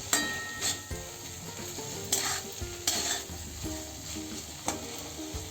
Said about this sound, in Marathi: आता आपण त्याच्यात कोथिंबीर टाकू भरपूर सारी कोथिंबीर टाकायची त्यामुळे बटाट्याची भाजी खूप चवदार लागते आणि परत एकदा छान अशी मिक्स करून घ्यायची